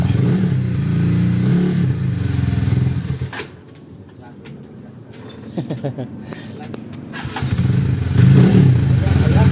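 A tuned Motorstar motorcycle rumbles loudly nearby, drops to a brief lull with metallic clinks and clatter, then revs back up, with people talking over it.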